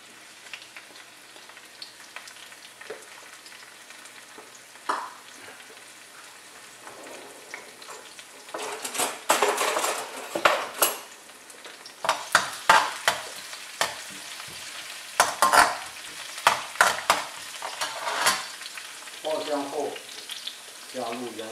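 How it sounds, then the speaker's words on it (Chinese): Scallion, ginger and garlic hit hot oil for hot and sour shredded potatoes. A quiet stretch gives way to loud, crackling bursts of sizzle and quick stirring that come and go in an irregular rhythm. "我们首先加入葱姜蒜爆香"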